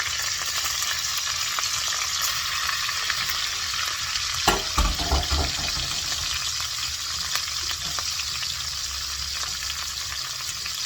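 Coated beef frying in a skillet, a steady dense sizzle up close with a brief burst of clatter and stirring midway, no one speaking.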